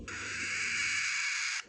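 A young pied parrot gives a hoarse, raspy call, one sustained breathy screech lasting over a second and a half, close and fairly loud, with no talk around it.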